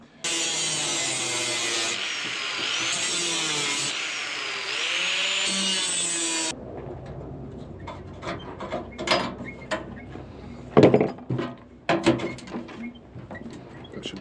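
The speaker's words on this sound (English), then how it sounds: "Thank you, little drill. You came in handy." Small handheld drill boring a hole through wood for an off-grid outdoor kitchen, a steady high whine that runs for several seconds and then gives way to scraping, knocking handling sounds.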